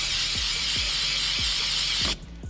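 Clean Flow non-chlorinated cleaner sprayed onto a dirty pipe, a loud, continuous aerosol hiss that runs steadily for about two seconds, with faint knocking beneath, and then cuts off abruptly.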